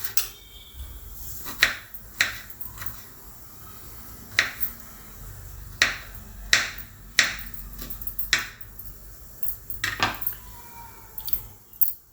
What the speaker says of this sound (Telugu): పచ్చిమిర్చిని అల్లాన్ని చిన్నగా తరుక్కోవాలి. చిన్న చిన్న ముక్కలు కట్ చేసుకోవాలి.